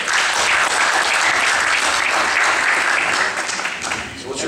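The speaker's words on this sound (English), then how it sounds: "Give him a round of applause." Audience at a town hall for Sen. Ron Wyden in Albany, Oregon breaks into loud, sustained applause that fills the whole stretch, easing slightly toward the end.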